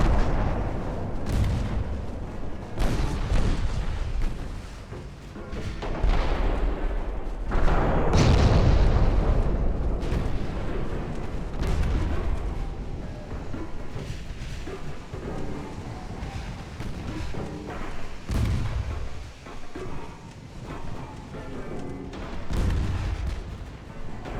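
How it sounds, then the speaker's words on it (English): Naval gunfire from warships in Ultimate Admiral Dreadnoughts, with light cruisers and battleships firing: repeated deep booming salvos and explosions roll one after another at irregular intervals across a loud, continuous battle din. "tell all the CLs to switch to high explosive. I'm gonna keep the battleships on"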